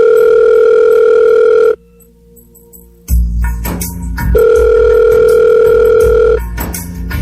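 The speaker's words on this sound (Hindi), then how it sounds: "अभी फोन करके पूछती हूँ कि ठीक ठाक घर पहुँच गया" An outgoing call on a telephone to a son gives a steady, loud tone that stops for about a second, then comes back under a short noisy burst.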